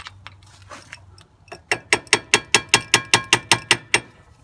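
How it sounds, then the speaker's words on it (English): A tool taps a stuck rear brake pad on a Lexus RX 300, giving a quick run of about a dozen sharp, evenly spaced metallic knocks close up after a few scattered lighter taps. "I'm gonna try to tap it like this at the top and at the bottom to try to move it"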